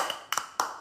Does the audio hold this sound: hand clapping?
yes